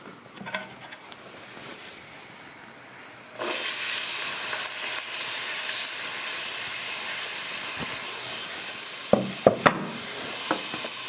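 Chopped onion drops into a hot pot of oil and bursts into loud, steady sizzling and hissing, with a few clanks of stirring near the end.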